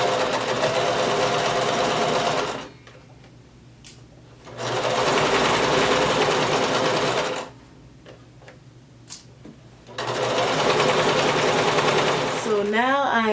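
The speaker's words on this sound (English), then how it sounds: "So go ahead and lower your needle, begin sewing, backstitch" A sewing machine stitches a skirt side seam in three long steady runs of close rapid ticking whir, broken by two pauses, with a voice speaking throughout.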